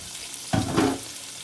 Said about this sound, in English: I'm gonna saute those onions.